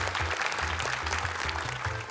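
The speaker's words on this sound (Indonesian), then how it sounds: "Boleh tepuk tangan untuk mereka." A crowd applauds steadily, the dense clapping continuing at even loudness throughout, with a low rhythmic hum underneath.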